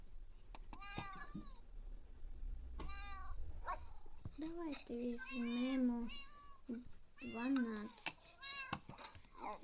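Cartoonish kitten meows from a video game repeat in a rising, whiny series through most of the stretch, overlapping a young voice talking and laughing.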